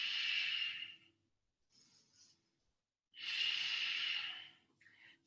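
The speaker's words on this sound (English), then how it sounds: "We'll take 3 rounds of breath right here." Slow, deep breaths during a yoga pose: two long airy exhales, each with a fainter, shorter breath after it, close and soft with no talking.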